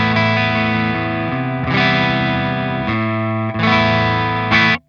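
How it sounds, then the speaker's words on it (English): Electric guitar on a clean amp channel with a touch of boost, run through a Boss Waza Tube Amp Expander, rings out in sustained chords that shift a few times before stopping abruptly, up close and loud. "So that is the clean tone."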